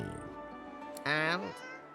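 A cat meowing in the fantasy role-playing game Divinity: Original Sin 2, one clear, drawn-out meow rising then falling, close and fairly loud, following a brief softer vocal sound.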